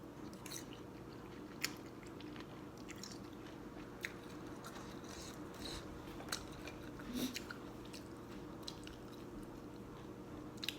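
Quiet, close chewing and slurping of Thai boat noodles with beef, soft wet bites and occasional louder smacks over a low room hum, with no talking.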